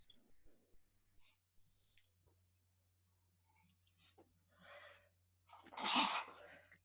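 A single sharp sneeze near the end, loud and close, after several seconds of quiet rustling and faint background hum.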